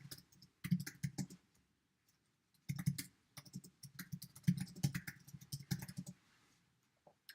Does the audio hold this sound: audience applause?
no